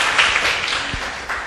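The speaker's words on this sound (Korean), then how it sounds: "큰 박수 부탁드리겠습니다" An audience applauds at a radio talk show event, a brief steady burst of clapping from a crowd that fades slightly toward the end.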